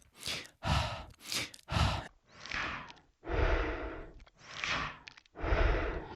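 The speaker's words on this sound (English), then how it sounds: "now exhale again on the flat tongue ah as in step number 2" Hee-haw style breathing while running: a series of forceful breathy exhales and quick inhalations in an uneven rhythm, close to the mic and fairly loud, with no speech.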